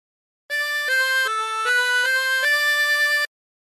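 A harmonica plays a phrase of God Rest Ye Merry Gentlemen with bends, about seven clear sustained notes in a steady melodic line, close and alone.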